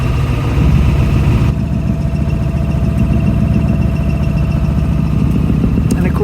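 Boat engine of the Winter Rose picking up speed on a trip out to sea, a steady loud low rumble that holds throughout with constant wind noise over it.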